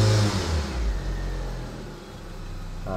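A repaired Proton Exora turbo car engine runs steadily up close, a loud low rumble with a slight rev at the start, then settling into an even idle with no talking.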